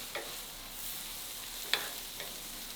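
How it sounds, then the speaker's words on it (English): Green onions sautéing in a pan for salmon fried rice give off a soft, steady sizzle, with a couple of brief stirring scrapes and one sharper clink midway. "They're starting to saute"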